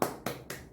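Three sharp hand claps spaced evenly about a quarter second apart during a comic magic skit, fairly close and quiet, with no voices.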